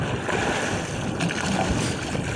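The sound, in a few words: strong wind at sea on a boat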